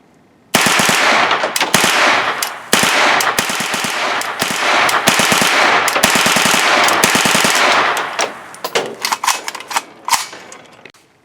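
Kalashnikov-USA KR9 rifle bump firing at an outdoor range: loud, fast strings of gunshots in long rattling bursts, ending in a few separated shots.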